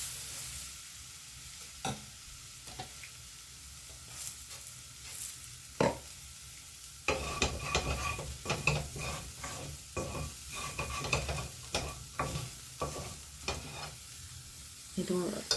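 Dosa batter cooking on a hot tawa griddle, a quiet sizzle punctuated by sharp clinks and scraping of a spatula, growing busier and louder halfway through with repeated irregular taps and scrapes.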